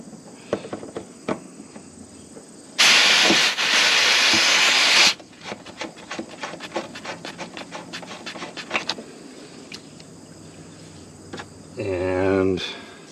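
Refrigerant hisses out as the Schrader valve is removed from a mini-split condenser unit. The loud, close hiss lasts about two seconds, followed by ticking and handling noises.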